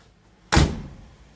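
A car door on a 90-year-old Buick closes with one solid, close thunk, its body briefly ringing before fading into quiet.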